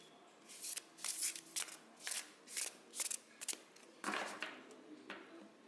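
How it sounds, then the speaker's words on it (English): Cards being shuffled up close in a series of quick riffling bursts, each a crisp papery flutter separated by short pauses, no talking. "I'm gonna shuffle the cards until I feel the decks are ready"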